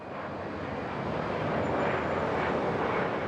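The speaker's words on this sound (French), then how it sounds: "les derniers avions du soir" Airplanes passing overhead at dusk near the end of a seaside promenade in Nice, a broad steady roar of aircraft engines that swells slightly midway and holds loud and continuous, with no voices.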